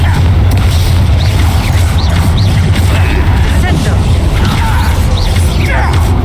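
Bombarda and Confringo spell blasts from Hogwarts Legacy, loud booming bursts and crashes layered over a dense, constant battle din with mechanical clatter and a voice calling out.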